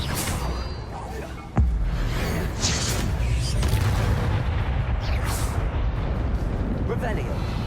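A Confringo blasting spell goes off in Hogwarts Legacy, a sudden loud burst followed by a sustained roaring rumble, with further crackling impacts layered over continuous game ambience.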